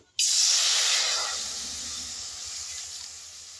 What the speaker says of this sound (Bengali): এবার আমি কড়াইয়ে দিয়ে দেবো জল আমলকি সেদ্ধর জন্য।